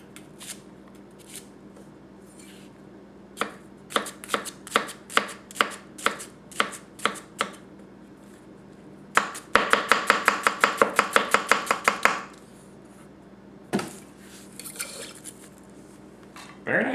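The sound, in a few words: Tanaka Kurouchi gyuto knife chopping onions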